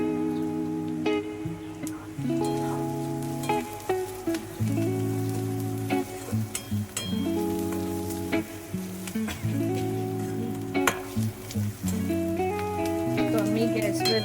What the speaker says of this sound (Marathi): बघा इथे थोडा थोडा कांदा चांगला ब्राऊन होताना आपल्याला दिसतोय